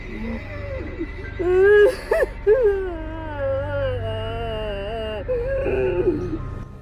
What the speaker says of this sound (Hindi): आपकी नींद किसी की रोने की आवाज से टूट जाए